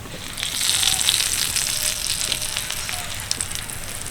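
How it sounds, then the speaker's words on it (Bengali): Hot tempering poured over spinach and chickpea dal sizzles and crackles steadily, a close, continuous hiss of spitting oil that swells early and then holds. "এবার এই তরকাটাকে তরকারি তরকারির উপর দিয়ে দেব"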